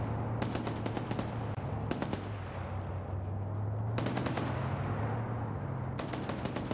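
Heavy automatic gunfire, including a .50 cal, crackles in an Arma-style military PvP match, Estonia versus Russia, arriving in four sharp rapid bursts separated by pauses over a low steady drone.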